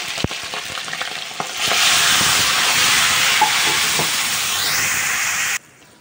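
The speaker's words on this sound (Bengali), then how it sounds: "এবার দেবো সেই তেঁতুল জল" Tamarind water poured into hot oil with frying pangas fish bursts into a loud, steady sizzle and hiss that swells after a softer start, holds close and constant, then cuts off abruptly near the end.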